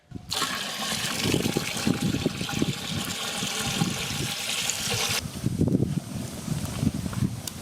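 Water is poured into a pot for cooking vegetable pasta in a village setting, making a steady, rushing gush with a splashing, bubbly texture that runs for several seconds before softening near the end.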